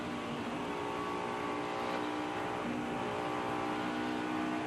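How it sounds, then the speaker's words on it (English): A NASCAR Busch Series race car engine revving continuously and loudly as the driver pedals the throttle coming off a corner, a steady close roar with no speech. "hear him kind of pedaling that throttle up off the corner, Darrell."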